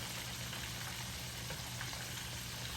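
Salmon nuggets cook in a Power XL cooker with a steady, even sizzle that holds at a moderate level throughout; no one speaks.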